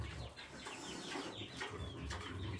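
Chickens on a small farm cluck and chirp softly in the background, a mix of short hen calls and chick peeps at low volume with steady ambient noise.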